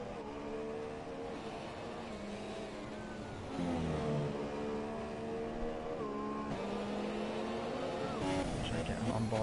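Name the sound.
Formula 1 race car engine from video game F1 2017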